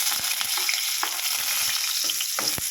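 Garlic fries in hot oil with a bright, crackling sizzle, punctuated by several low knocks and scrapes of stirring against the pan, close up and with no one talking.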